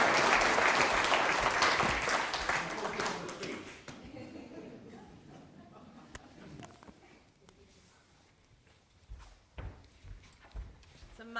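A crowd at a national speech awards final applauds the MC, loud at first, then thinning out into scattered claps and small knocks and shuffles as the room settles.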